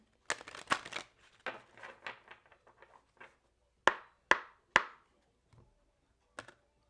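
A tarot deck handled and shuffled at close range: a quick run of soft card clicks and flicks, then three sharp isolated snaps a moment apart and a final faint tap, with quiet gaps between.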